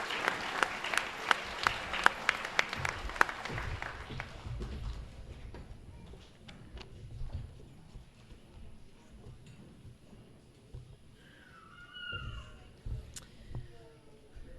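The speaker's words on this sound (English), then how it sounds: "a round of applause to each and every one of you" Clapping from a school audience at an elementary Veterans Day program, crisp and loud at first, then fading to scattered claps and quiet children's voices.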